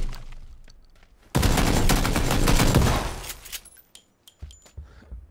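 Gunfire in the battle royale game PUBG: a loud, dense burst of rapid shots lasting about two seconds, followed by a few scattered clicks and quieter sounds.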